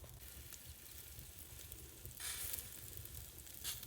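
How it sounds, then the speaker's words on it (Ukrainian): Quiet sizzling of meat frying on a grill, with fat rendering, a soft steady crackle with a couple of brief louder hisses, no voices. "Зараз посмажу і покажу вже тоді, як воно буде просмаженим."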